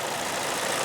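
A 2003 Ford Focus SE with a 2.3 liter 4-cylinder engine idles steadily, a low, even hum heard close up under the open hood with no talking.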